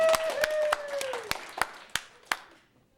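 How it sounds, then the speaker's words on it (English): A few distinct, sparse claps ring out one after another at a theatre workshop, separated by brief gaps, over a fading tone and quiet room. "Give her a round of applause, everyone"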